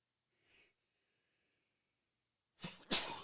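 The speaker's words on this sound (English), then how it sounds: "I had to sneeze." After a faint breath, a single sharp sneeze bursts out near the end, close and loud against otherwise near silence.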